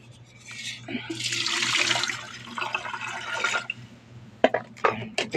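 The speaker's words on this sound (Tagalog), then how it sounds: "lagyan natin ng tubig" Water being poured into an electric kettle, a rushing stream that builds for a couple of seconds and then tapers off, followed by a few sharp clinks and knocks of the kettle being handled.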